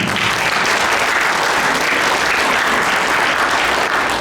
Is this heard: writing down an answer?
no